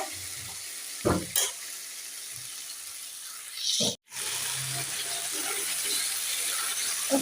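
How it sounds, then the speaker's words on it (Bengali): Potatoes sautéing with spices in a hot pan give a steady, close sizzle and hiss of frying, broken by a few brief stirring scrapes and one abrupt cut in the sound. "সব ধরনের মশলা অ্যাড করে দিয়েছি দিয়ে আলুটা সুন্দর করে কষিয়ে নিচ্ছি"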